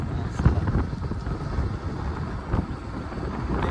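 Gusty wind buffets the microphone in uneven rumbling bursts, loud and close, while riding a scooter.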